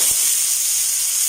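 Peas dropped into a pot of chicken hot and sour soup on the stove set off a steady, loud sizzle and hiss of steam that holds evenly throughout, with no talking.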